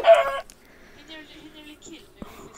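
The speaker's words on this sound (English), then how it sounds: "I killed three chickens." Chickens in the Minecraft VR game give a loud burst of clucking at the start and another short cluck near the end, with quieter game sounds between.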